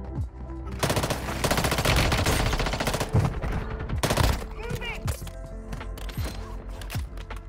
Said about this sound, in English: Did he just shoot somebody and just jump past him and not?